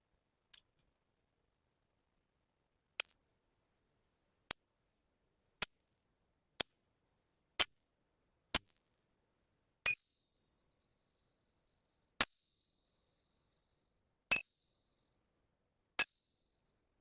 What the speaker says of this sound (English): we can listen to some testing of some sounds of silver versus non-silver coins.